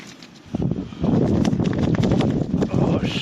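Strong wind gusts batter a tent on a November night, a loud, low buffeting roar that swells after a quieter start and keeps pounding in rough, uneven surges.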